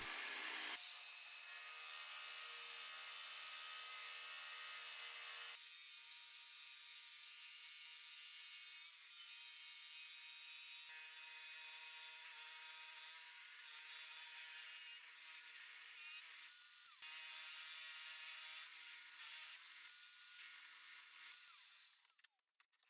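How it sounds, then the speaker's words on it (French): A drill press with a 20 mm bit bores steadily into wood, a continuous whirring grind with shifting pitch as the bit cuts, close up, no voices. "J'utilise ma perceuse à colonne avec un foret de 20 mm pour enlever le plus de matière possible"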